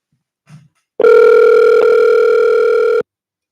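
A phone call's ring tone sounds once, a loud steady electronic tone lasting about two seconds after a faint short blip, then silence.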